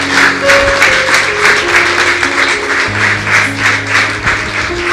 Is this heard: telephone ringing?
no